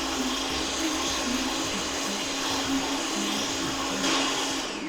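A blender whizzes Turkish chilli sauce (ezme), giving a steady, close, high-pitched motor whir that runs continuously with slight shifts in pitch as the contents churn.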